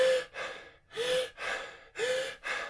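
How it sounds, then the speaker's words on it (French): A person breathes rapidly through the mouth, inhaling only, in four sharp gasping intakes with brief pauses between them, close and clear. "Et on ne passe que son temps à inspirer."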